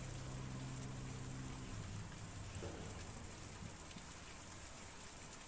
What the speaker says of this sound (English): So now that we're on the rooftop, it's raining.